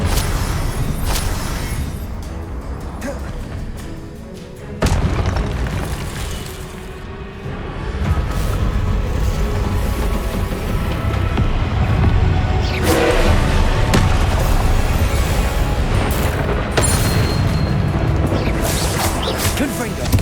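Repeated booming blasts of the Confringo fire spell in Hogwarts Legacy thud and crash loudly amid constant game combat noise, with a spoken incantation in the mix.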